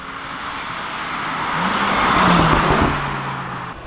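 An Audi RS3 and a Mercedes-AMG A45 S accelerate hard in second gear, one rising engine roar swelling loud and then fading as the cars pull away, with heavy wind and road noise.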